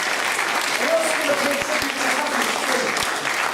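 Steady applause from a conference audience after a plenary speech fills the space, continuous clapping with a voice faintly audible underneath.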